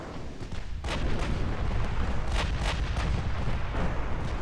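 Heavy naval artillery from battleships in Ultimate Admiral Dreadnoughts: a steady rumbling barrage with several deep booming salvos standing out, loud and continuous throughout.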